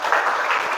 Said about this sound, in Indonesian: beri tepuk tangan buat teman kalian